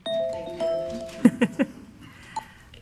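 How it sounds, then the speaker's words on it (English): A bell rings at a school board of education meeting, giving three quick, fairly close strikes in a row and then one fainter strike, set against a quiet room with some low background murmur. "there's the bell"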